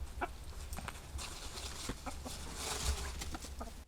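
Backyard chickens from a small flock cluck softly and intermittently, with scattered short calls over a faint outdoor background.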